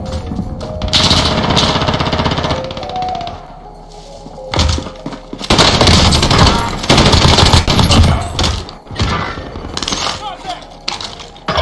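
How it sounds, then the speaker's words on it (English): A machine gun fires in a video game, loud rapid bursts with short pauses between them, along with thuds and crashes. "All I've got is this really fucking awesome machine gun."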